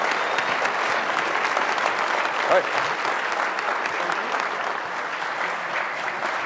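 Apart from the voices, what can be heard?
round of applause at a luncheon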